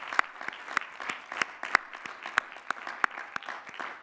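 Applause at a graduate commencement ceremony honoring degree recipients, with sharp, distinct claps in an irregular rhythm over softer clapping from a large seated audience, heard at some distance.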